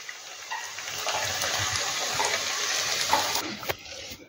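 Cutlets frying in hot oil, a steady, close sizzle and crackle with a few louder pops near the end.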